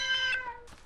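A cat gives one clear, drawn-out meow, followed by a brief softer second sound, close by and alone.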